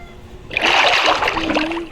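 Swimming splashes in the Minecraft game, a loud close burst of sloshing water that begins abruptly partway through and lasts about a second and a half before fading.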